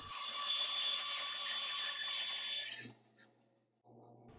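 A power saw cuts a bevel on the wooden transom of a Catalina Wherry rowing boat. A loud, steady, high whining cut runs for almost three seconds, then stops abruptly, followed by a brief quiet and a low hum.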